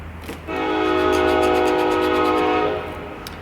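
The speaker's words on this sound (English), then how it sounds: "There's the train coming through." A passing train sounds a long, loud sustained horn blast that swells in, holds for over two seconds and cuts off, with rumbling rail noise beneath and no talk.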